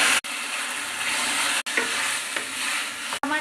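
Washed fenugreek leaves fry with onions in a pan on the stove, a loud continuous sizzle broken by a few short gaps, with stirring scrapes throughout and no speech.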